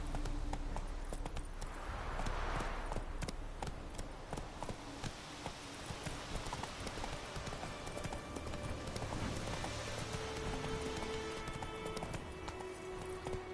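Roach the horse gallops across terrain in The Witcher video game, rapid repeated hoofbeats drumming close and loud alongside game ambience throughout.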